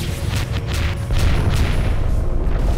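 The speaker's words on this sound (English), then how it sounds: "it detonated behind him" A missile detonating in the space combat game FreeSpace 2, a deep rumbling boom that swells and holds loud under continuous engine roar, with no talking.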